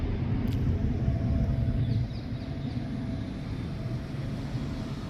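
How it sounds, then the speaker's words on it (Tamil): A small airplane flies over a house, heard as a faint, steady low drone that softens slightly partway through, with no voices. "அங்கே ஒரு சின்ன ஃப்ளைட்டு போகுது"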